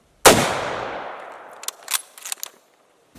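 A Mosin Nagant rifle fires one loud, close shot with a long echoing tail, followed by a few sharp metallic clicks and clatters.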